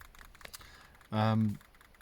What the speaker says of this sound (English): you can hear the clicking from the various different dashes